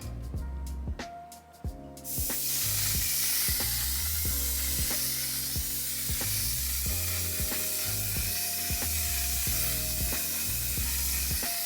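A steady aerosol setting spray (On Till Dawn mattifying waterproof makeup setting spray) hisses close by for several seconds, with background music playing underneath.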